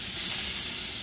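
Meat on a home grill at dinnertime gives off a steady, loud, dense sizzling hiss that fills the whole short moment without any speech.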